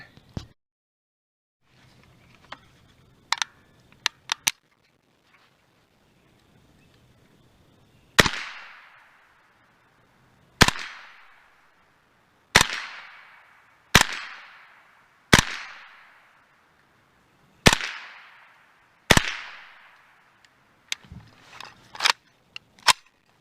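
Sharp gunshots from a RAK-22 Romanian AK-style .22LR rifle firing Federal rounds outdoors: about seven loud cracks at irregular intervals of two to three seconds, each ringing briefly, with softer clicks and handling noises in between.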